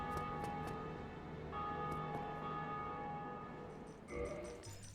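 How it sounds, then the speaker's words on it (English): Bells ringing in a video game, a few soft chimes with sustained ringing tones that fade before a brief new sound near the end. "I have to hear those bells just one more time."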